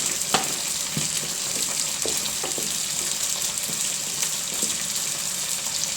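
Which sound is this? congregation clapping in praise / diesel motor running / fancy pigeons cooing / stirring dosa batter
stirring dosa batter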